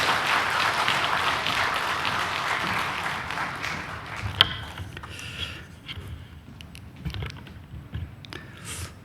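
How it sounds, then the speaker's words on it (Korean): A church congregation claps to welcome the pastor to the pulpit at a Sunday service, loud sustained applause that gradually thins into scattered claps and a few sharp individual hits near the end. "우리 나오실 때 큰 박수로 한번 환영해 주십시오"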